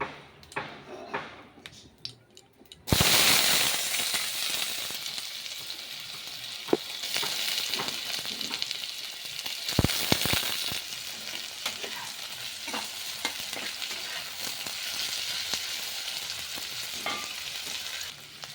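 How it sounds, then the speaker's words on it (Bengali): Potato, onion, chili and tomato pieces drop into hot oil for chow mein and sizzle loudly and steadily, a sudden burst of frying followed by continuous crackle with occasional stirring scrapes. "তেল গরম হয়ে গেছে, এবার একে একে সব ছেড়ে দেবো।"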